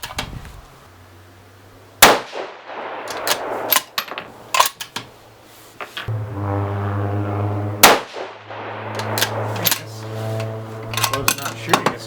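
Rifle shots from a 6mm ARC firing hunting loads, 103-grain ELD-X and Barnes 95-grain LRX, heard as several sharp loud cracks spaced a few seconds apart, with a steady engine-like hum underneath and a faint ring after some shots.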